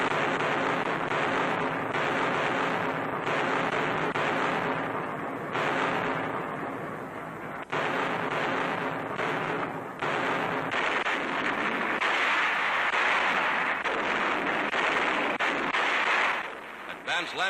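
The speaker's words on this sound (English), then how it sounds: "The assault begins at night with a terrific naval barrage." A 1944 wartime naval barrage pounds away at night, with dull booming gunfire and rumbling blasts repeating through a noisy, distorted old newsreel soundtrack, while a narrator speaks over it.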